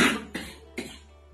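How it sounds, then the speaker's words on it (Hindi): Three short coughs from someone speaking Hindi, spaced about every 0.4 seconds, close and moderately loud, with no speech in between. "खांसी आ रही, तबीयत थोड़ी खराब है।"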